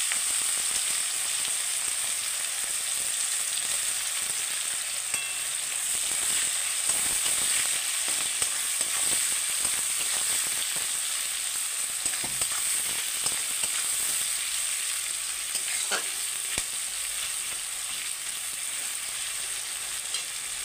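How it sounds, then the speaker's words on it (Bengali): Chopped onions fry in hot oil with cumin, cardamom, cinnamon and a bay leaf for a deshi chicken curry, a steady, close sizzle with occasional stirring clinks throughout and no talking. "এবারে দিয়ে দেবো কুচানো পেঁয়াজগুলো।"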